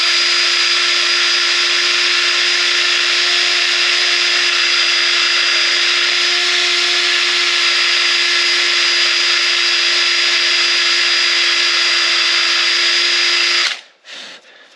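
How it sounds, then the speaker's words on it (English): A small diamond bit scrapes the oxide layer and grime off a cracked electric motor rotor from a LeTourneau Tournapull D scraper. The whine is loud and steady, with a constant high pitch, and it stops abruptly near the end. "I set up this diamond little bit to just scratch off the oxide layer or whatever grime"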